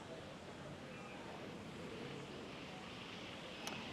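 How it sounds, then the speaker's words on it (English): A steady, broadband rush of water from a small waterfall on a little river at a holiday park, continuous and fairly faint, with one brief click near the end. "There's a little river with a little waterfall."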